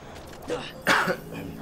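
Close and fairly loud, someone clears their throat and gives a couple of short, harsh coughs in quick succession.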